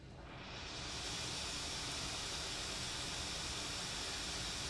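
A white noise test signal plays in audio software, a flat hiss that fades in over the first second, then holds steady and even with no voices.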